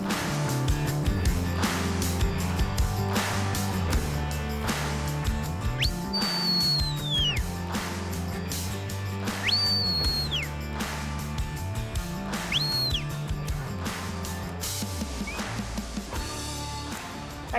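A series of sharp, rising and falling sheepdog whistle commands, several distinct calls spaced apart while herding sheep at a distance, over steady music or background noise.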